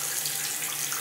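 Water running steadily from a tap while a bathroom is cleaned, a close, even hiss of flowing water with no talking.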